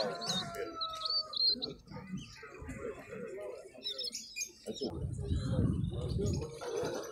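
Hybrid finch, a cross with a greenfinch, singing from its cage at a bird fair and show, with chirping and tweeting phrases over crowd chatter and people talking nearby, with a louder burst of low market noise partway through.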